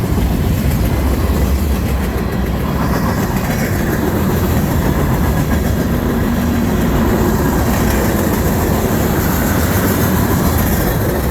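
A CN freight train rolls past close by with distributed power, a steady loud rumble and rattle of rail cars and wheels continuing throughout without pause.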